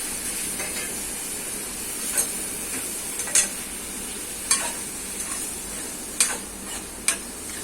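Steady sizzling of ridge gourd on a hot tawa with occasional sharp scrapes and clacks of a utensil stirring the food, no voices.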